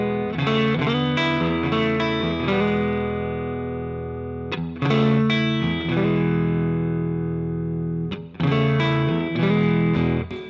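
An electric guitar played through a BluGuitar Blubox into a vintage amp rings out in sustained, distorted chords with effects, strummed in three loud phrases separated by brief gaps, with no talking.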